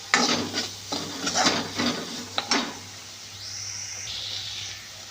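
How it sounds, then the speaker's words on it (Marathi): Spinach bhaji with red chilli powder and garam masala being stirred in a pan, a soft repeated scraping and shuffling in bursts over a faint sizzle, followed by a quieter stretch with a steady background hiss. "आता हे छान आपण हलवून घेऊया"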